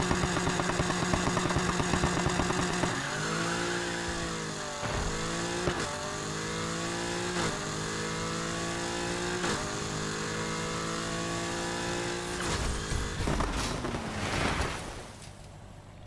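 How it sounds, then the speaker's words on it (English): A drag-race car in NFS Heat revs hard and launches, the engine climbing through a series of rising gear pulls with sharp drops between shifts, loud and close, ending in a rushing fade. "let me show you the 3rd launch on another car"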